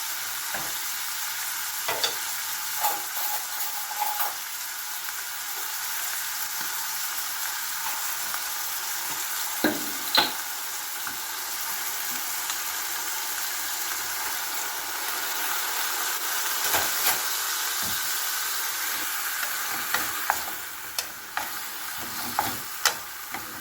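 Bean sprouts and chicken stir-fry in a hot pan with soy sauce, giving a constant loud sizzle and hiss punctuated by scattered clicks and scrapes of a spatula being stirred throughout.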